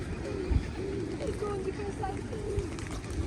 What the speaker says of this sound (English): There's too many pigeons.